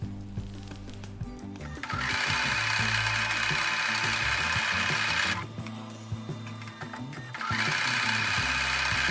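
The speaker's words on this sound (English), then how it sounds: "when I take it to the sewing machine, I'm going to sew with the corner square piece facing upwards" A sewing machine stitches quilt block pieces in loud, steady whirring runs that stop briefly twice before starting again.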